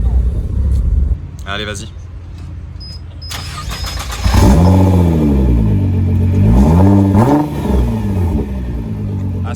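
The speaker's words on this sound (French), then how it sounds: "Ancienne Porsche qui arrive là et Cayman GT4." An older Porsche Cayman GT4 drives up and passes close by, its engine revving hard in repeated rising and falling sweeps that grow loud and fade, with someone speaking briefly over it.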